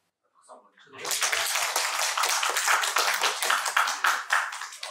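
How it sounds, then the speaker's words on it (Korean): An audience at a talk concert claps together in a dense, steady round of applause that starts after a brief spoken word and carries on loudly for several seconds. "박수 한번 쳐드려요."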